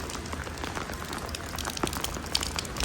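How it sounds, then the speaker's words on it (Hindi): Heavy rain falling outdoors beside colourful buildings in Istanbul, Turkey: a dense, steady hiss of drops with scattered sharper patters, continuous and fairly close, with no voices. "आज सुबह से बहुत ज्यादा हैवी रेन है"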